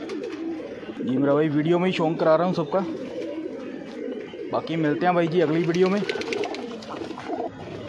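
Kashni pigeons of the Punjabi Malwai breed coo in repeated soft, throaty phrases close by, heard under someone speaking Hindi.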